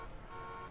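Car horn of a Chevrolet Corvette in a driving video game, a steady, brief honk held for under a second with no talking over it.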